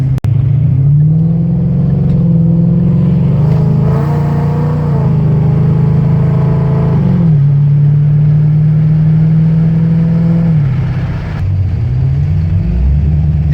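A 9.3-second-capable Ford Mustang drag car accelerates hard at wide open throttle on the street, its engine roaring loud and close, climbing through gears with brief dips at each shift before pulling again.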